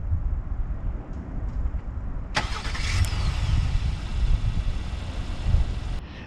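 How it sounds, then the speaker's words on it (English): A 2020 Acura MDX A-Spec SH-AWD starting by remote start: a sharp starter crank, then a steady engine idle at moderate level over a background hum. "So to activate it, you just lock it, hold the button down for a couple seconds,"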